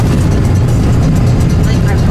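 A car rattling along the rough, bumpy gravel of the Dalton Highway in Alaska, heard from inside as a loud, constant low engine and road rumble with jolting thumps throughout.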